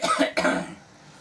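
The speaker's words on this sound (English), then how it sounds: "I'm going to be coughing a lot" A man gives two quick, close coughs in a row, the second slightly trailing off, with no talk around them.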